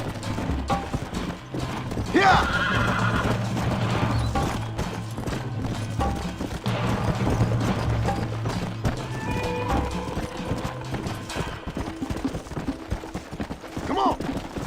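Horse hooves clip-clop in Red Dead Redemption gameplay, a steady rhythmic trot under game music and engine rumble, with characters shouting briefly over it.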